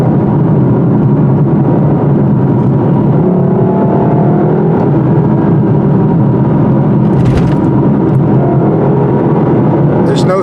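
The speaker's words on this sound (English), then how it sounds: "the sound of that V8 can't be beat" Lexus LC500 V8 engine while driving on backcountry roads: a loud, continuous engine drone with road and wind rush running the whole time, rising slightly in places, with a voice talking over it.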